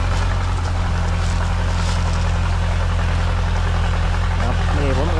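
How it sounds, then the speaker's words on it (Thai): A 6640 tractor pulling a cassava digger through a rubber plantation gives a loud, steady, unbroken engine drone with a low throbbing hum that fills the whole stretch. "มาชมการขุดมันเล็กน้อยครับพี่น้อง ขุดมันจะของเองนะขุดมันจะของรถไถครับผม"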